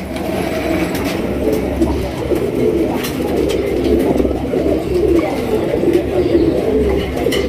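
A flock of Lahori Sherazi pigeons in a pigeon seller's collection coo continuously, a low, dense, overlapping murmur close by with some faint background voices.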